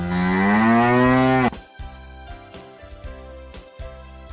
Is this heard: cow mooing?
yes